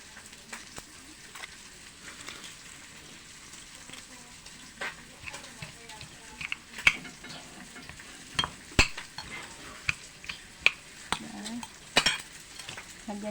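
Eggs frying in a pan with tomato and onion give a soft, steady sizzle, punctuated by light scrapes and taps from a utensil stirring against the pan.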